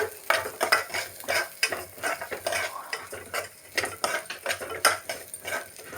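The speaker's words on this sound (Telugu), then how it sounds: "ఎర్రగా వేయించుకోవాలి పెసరపప్పును." Split moong dal being stirred and dry-roasted in a pan for sweet pongal, with a steady run of scraping, rattling spoon strokes against the metal and a faint sizzle underneath, close and fairly quiet, with no talking.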